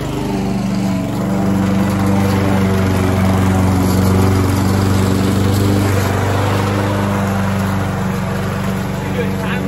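Lawn mower engine cutting grass close by, a loud, steady droning hum with a constant pitch throughout.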